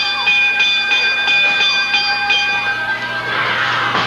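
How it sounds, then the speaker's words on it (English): A wrestling ring bell is rung rapidly and repeatedly during a 1979 Memphis match, with sharp metallic clangs in a steady rhythm over arena crowd noise. "The referee is saying ring the bell."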